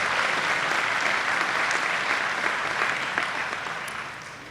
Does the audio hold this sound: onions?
no